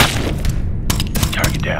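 A rifle shot fired in Ghost Recon Future Soldier, a loud close blast followed by further sharp reports and echoing booms within a couple of seconds.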